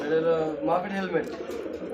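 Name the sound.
pigeons cooing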